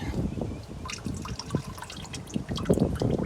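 Engine oil from a 2003–2007 Honda Accord pouring into a drain pan, a steady close liquid trickle and splatter lasting the whole stretch with no talking.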